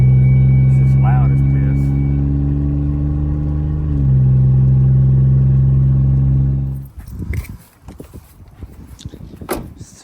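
A Ford Escape rebuilt after a wreck runs loudly on a test drive, its engine giving a steady, close drone with a slight pitch rise midway, then cutting to rough knocks and rumbling.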